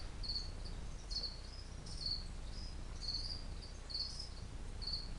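A cricket chirps in repeated short bursts at a steady rhythm over a low background hum, heard close by near a pet's water bowl during feeding.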